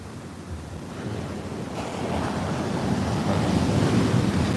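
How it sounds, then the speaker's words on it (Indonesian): Large ocean waves pound Muaro Bayang beach in Pessel during bad weather, a continuous broad roar of surf and wind that grows steadily louder and heavier, with no voices. "Ini emang ombaknya jauh luar biasa."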